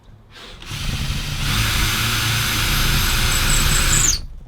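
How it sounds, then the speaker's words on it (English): A power drill drilling holes during a Ford Transit van conversion whirs up and runs at a steady high pitch for a few seconds, close and loud, then stops abruptly. "I need to drill some holes in this."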